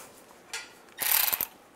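Ratchet tightening a bracket bolt during rear main seal work on a 2007-2013 Chevy Silverado: a short click at first, then a dense burst of rapid ratcheting clicks lasting about half a second, close and fairly quiet, with no talk.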